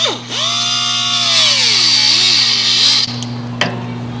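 A power tool whirs loudly and steadily while cutting the excess tail off a hose clamp on a 1950 Chevy pickup's fuel line, the pitch sagging under load, then it cuts off abruptly, leaving a faint hum and a couple of small clicks.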